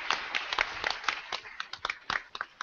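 Audience applause at a live tech talk show taping, with scattered sharp claps rising and falling over a couple of seconds, moderately loud and fairly close, no speech over it.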